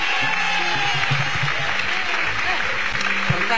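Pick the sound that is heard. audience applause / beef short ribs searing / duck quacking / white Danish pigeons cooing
audience applause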